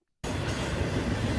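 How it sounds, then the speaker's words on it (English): A freight train hauled by Union Pacific locomotives rumbles past at Pendry Park in Silver Grove, Kentucky, starting abruptly out of silence and holding a loud, continuous roar of rolling cars. "I barely caught that train."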